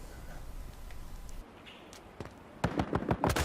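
Burst-fire gunfire in the video game Battlefield Hardline, sounding as a quick volley of sharp, close shots near the end after quieter game ambience and a few isolated pops.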